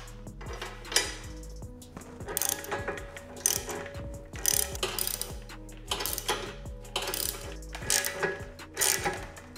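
Hand ratchet clicks in repeated bursts while bolting up the center seat plate of a Vyper Industrial Low-Pro motorcycle seat with backrest, close and fairly quiet, with short metallic ticks and pauses between runs and no talking.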